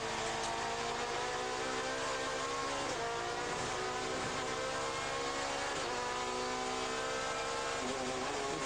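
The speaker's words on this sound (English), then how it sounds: "straight down braking, very hard, 4th gear, 3rd gear, 2nd gear, and into the long 180 degrees right-hander" Onboard sound of a touring car at Oschersleben, 2003 ETCC race, braking very hard and downshifting from fourth to second gear: a loud, steady race engine with falling pitch sweeps and gear changes, close and continuous throughout.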